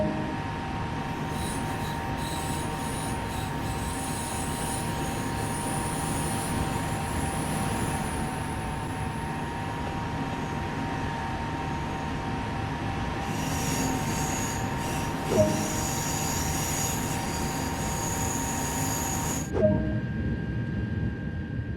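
A high-speed train in motion on the LGV Méditerranée route in Train Sim World 2: a steady, close rumble of rolling wheels with sustained tonal hum, brief wheel squeals and a couple of soft clunks, no talking.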